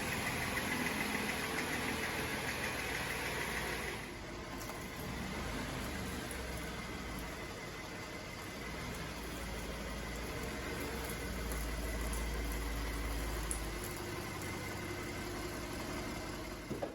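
A Ford F-150 pickup truck engine idles steadily at low volume as the truck is eased halfway into a garage, a constant rumble throughout with no talking.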